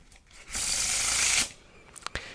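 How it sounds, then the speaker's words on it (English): A deck of playing cards is given a Pharaoh (faro) shuffle, close up for ASMR: one smooth, sustained whirring riffle lasting about a second, then a few soft taps as the deck squares up. "Let's give it a good Pharaoh shuffle."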